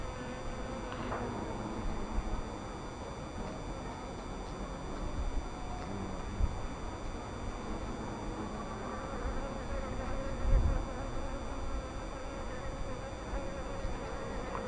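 Insects hum continuously at a beehive apiary, a hornet's buzz blending into a faint, steady outdoor drone with no clear breaks.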